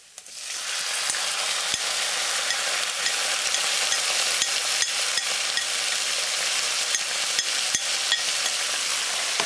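Loud, steady sizzling of marinated pork loin frying in a hot wok, a dense continuous crackle with occasional sharp pops and scrapes, no voices.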